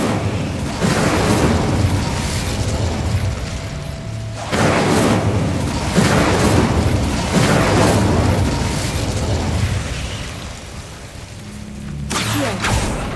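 Incendio fire spells blast in Hogwarts Legacy as a series of roaring, booming bursts over a continuous rumbling backdrop, repeating every few seconds and ending with a sharper crackle.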